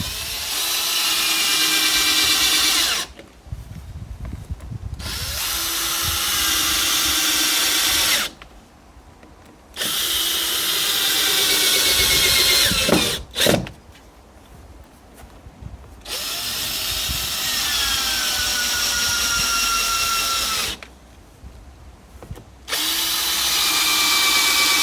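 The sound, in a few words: power drill securing a timber batten on a gazebo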